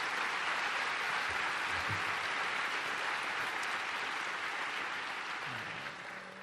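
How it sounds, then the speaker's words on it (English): An audience at a presidential speech in Estonia gives a steady round of applause, dense and fairly distant clapping that holds evenly and tapers slightly at the end. "Please give Oscar a big round of applause for the great job that he did"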